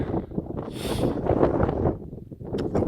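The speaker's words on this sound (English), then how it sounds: "The weather's nice, but the wind is just crazy." Strong, steady wind buffets the microphone on Ruta 40 in Argentinian Patagonia, a loud, continuous rumbling roar with gusty swells and a brief lull near the end, with no voices.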